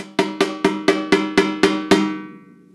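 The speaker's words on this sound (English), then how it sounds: "this drum, believe it or not, has a very tight pitched bottom head. Listen to this." A snare drum with a very tight, high-pitched bottom head is struck eight times in a steady rhythm, each hit ringing with a bright, resonant, almost cowbell-like tone that decays after the last stroke; no voices.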